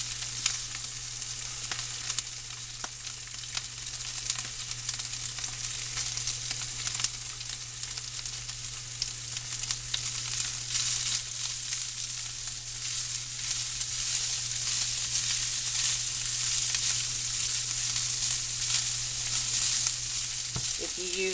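Cold leftover rice frying in a hot skillet, a loud steady sizzle with faint stirring scrapes, continuous throughout and without talking.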